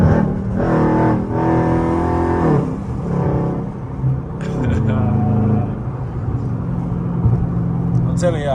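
Dodge Charger Scat Pack with a catless exhaust driving, its engine a deep rumbling drone under continuous close talk from a man inside the car, the exhaust note rising and falling.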